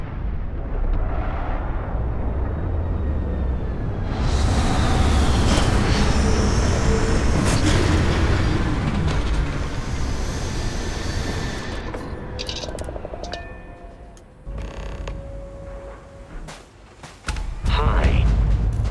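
A spaceship touches down in the game Starfield, a deep rumbling roar that builds and holds loud, then thins out into scattered mechanical clanks and beeps before a final burst, with a voice talking partway through.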